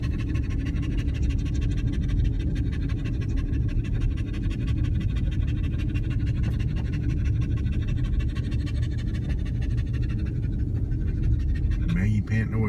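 A dog pants excitedly and rapidly throughout a car ride on a mountain road, with steady engine and road rumble underneath.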